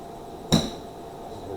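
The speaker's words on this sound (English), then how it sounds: "Half shot with a sand wedge." A sand wedge strikes a golf ball on a half shot out of the rough, a single crisp click-thud in the middle of the clip with a brief ring after it, set against quiet outdoor background.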